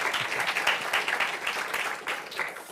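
Applause from a lecture audience following talks on Dune's desert society, many hands clapping in a steady, fairly soft patter that fades a little toward the end.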